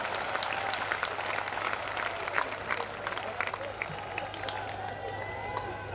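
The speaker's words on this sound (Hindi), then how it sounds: "जब तक सारे ताली नहीं बजाओगे पूरा नंबर नहीं बताने वाला" A comedy poetry show audience gives loud sustained applause that fills the whole stretch, with crowd noise and voices mixed in.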